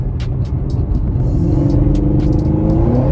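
Camaro ZL1 1LE driving along a city street, a loud, steady engine and road rumble heard from inside the car with a rising supercharger whine and intermittent clicks, and no talking.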